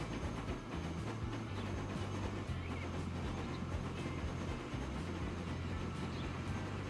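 A train running in the video game Transport Fever 2, a continuous low rumble and rolling clatter of rail cars that stays steady and fairly loud throughout, with no voices.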